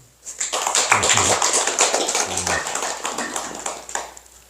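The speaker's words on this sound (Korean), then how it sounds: "진우 스님에게 박수 한번 쳐줘요" A congregation at a Buddhist Sunday dharma service applauds a monk, a burst of many hands clapping that swells quickly and then gradually thins out over a few seconds.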